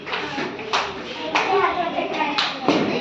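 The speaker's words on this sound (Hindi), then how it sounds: "हाँ, चलो ताली बजाओ इसके लिए।" Children in a classroom clap together, producing a lively patter of many small hands in several bursts over about three seconds, with young voices mixed in.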